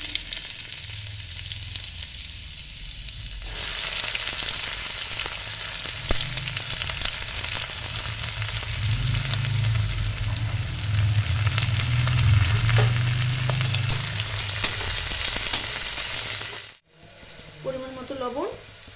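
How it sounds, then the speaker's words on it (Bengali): Cumin, nigella seeds and chopped garlic dropped into hot oil for a soybean chop recipe, bursting into a loud, steady sizzle that continues for many seconds, then cuts off as a brief voice is heard. "এই যে এখানে অল্প জিরে, একটু কালো জিরে ফোড়নে দিয়ে দিলাম"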